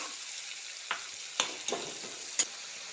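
Onion paste and ground tomato frying in a pan as they are stirred, a soft steady sizzle broken by four or five short scraping strokes of the spoon, close and quiet.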